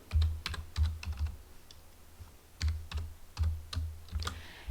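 Typing an XLOOKUP formula on a computer keyboard, with short bursts of crisp key clicks separated by brief pauses, close and clear, with no talking.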